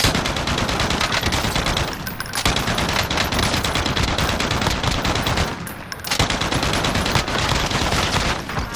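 A RAAL MG light machine gun fitted with a compensator fires in Call of Duty: Warzone. The automatic fire is loud and sustained, with brief pauses near two and six seconds. No one speaks.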